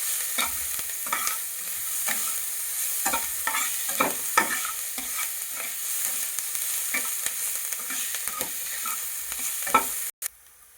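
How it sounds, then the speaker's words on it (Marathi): Onion sautés in a pan, giving a continuous sizzle broken by frequent stirring scrapes and taps that run close and steady for about ten seconds. "कांदा छानसा असा परतून घ्यायचा आहे, म्हणजे चव भाजीची व्यवस्थित लागेल"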